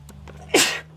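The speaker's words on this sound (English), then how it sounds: "And I'm going to sneeze." A single loud, close sneeze from a person handling alpaca yarn, bursting out abruptly after a quiet moment over a steady low hum.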